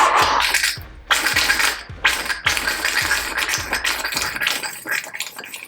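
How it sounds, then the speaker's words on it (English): A Harley-Davidson FXR motorcycle engine being cranked by its starter, with loud, close, rhythmic chugging turns in a steady repeating pattern and no catch. "we have our best shot at getting this motor to turn over and properly start"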